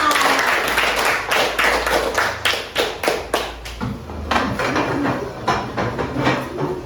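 A class of fifth-grade children claps together in a classroom, a loose, uneven patter of hand claps running for several seconds, close and fairly loud, thinning out near the middle before picking up again.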